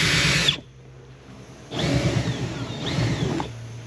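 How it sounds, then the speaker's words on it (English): A power drill whirs in two bursts after a short pause, close and loud, with a brief gap between the runs, while removing the quarter glass on a 2024 Jeep Grand Cherokee. "let's grab our drill, draw up our slack real quick"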